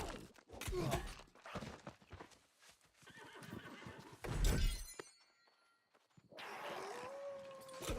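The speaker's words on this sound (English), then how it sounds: "I just heard a horse." A horse in the video game New World gives a whinny and clip-clops its hooves, with scattered thuds and crunchy game effects in short bursts and pauses. The sounds are fairly quiet and heard without speech.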